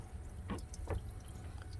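Coolant water drips and splashes from the thermostat housing of a 2015 GMC Yukon under repair, a few faint separate drops over a low steady background hum.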